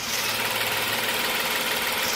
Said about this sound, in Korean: 그럼 바로 엔진 사운드 담아드리도록 하겠습니다.